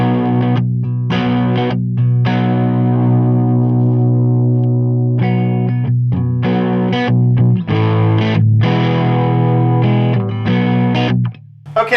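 Heavily distorted electric guitar chords ring out through a Reinhardt Sentinel tube amp head and 2x12 cabinet, with sustained notes, short pauses between strums, and a thick, saturated tone.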